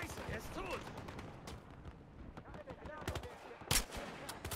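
Bursts of gunfire from the video game Battlefield Hardline sound fairly faint and scattered, with rapid shots and one sharper crack, alongside a voice talking.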